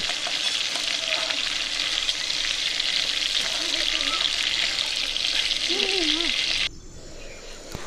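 Shrimp frying in hot oil for a Bengali kochur loti with prawn dish gives a loud, steady, close sizzle. Near the end it drops to a quieter crackle as the tempering goes in, with faint voices in the background.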